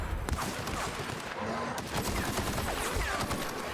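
Bursts of gunfire against marauders in The Outer Worlds, rapid dense shots with loud sharp cracks packed close together throughout, with a voice faintly underneath.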